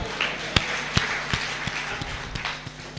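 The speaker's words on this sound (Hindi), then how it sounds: "इंदू जी के लिए भी तालियां बजा दो" An audience at a live comedy poetry show claps for Indu: scattered, uneven claps and taps over a soft crowd murmur, moderately loud and close.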